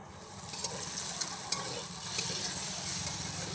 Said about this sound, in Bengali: এইবার ভেজে রাখা থালার সবজিটাও খিচুড়িতে ঢেলে দেব।